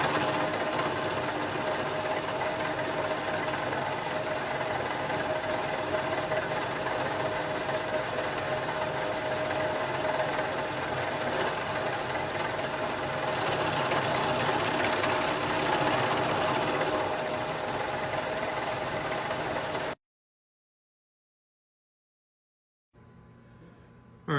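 A milling machine runs a face mill across two halves of a metal heater hose block for a 1968 Chevelle, a steady whirring, chattering cut that holds for about twenty seconds before dropping to silence.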